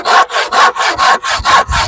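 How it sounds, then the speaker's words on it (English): A handsaw cuts through wood in a steady back-and-forth rhythm, about seven rasping strokes close up and loud, each stroke separated by a brief pause, with no voices. "I haven't used a handsaw in a long time"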